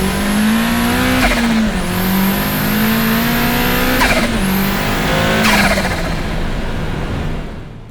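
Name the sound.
500HP Mazda Miata accelerating at full throttle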